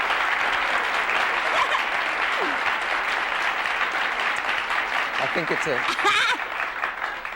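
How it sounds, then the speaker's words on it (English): Studio audience at a 1972 television talk show breaks into sustained, loud applause with scattered chuckles, while someone speaks briefly over the clapping near the end. "Hey, listen to that applause."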